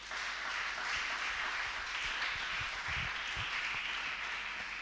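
A church congregation applauds at a French-language service, a steady dense wash of many hands clapping that stays even throughout, with no voices standing out.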